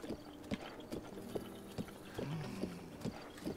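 Horse hooves clip-clopping at a relaxed trot in Breath of the Wild, steady evenly spaced thuds over soft ambient game tones, with a brief whinny-like tonal sweep partway through.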